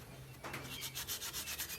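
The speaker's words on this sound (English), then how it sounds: "I think this scouring pad will do just fine." A scouring pad scrubs parts of a John Deere Model A tractor carburetor in quick back-and-forth strokes, a close, rhythmic abrasive rasp after a brief pause at the start.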